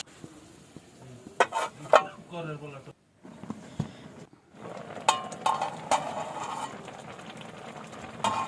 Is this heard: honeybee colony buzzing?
no